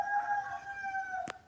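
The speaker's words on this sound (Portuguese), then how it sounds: "imediatamente o galo canta" A rooster crows once, a single long, close and fairly loud call with no voices around it, followed by a brief sharp noise at the end.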